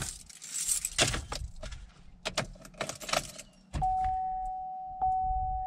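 Metal keys jangle and clink in irregular bursts in a 2013 Chevrolet Malibu's ignition, followed by a steady electronic tone and a low hum as the car's electrics come on.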